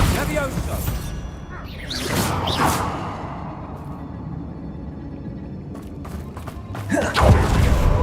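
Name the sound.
Bombarda blasting spell cast in Hogwarts Legacy video game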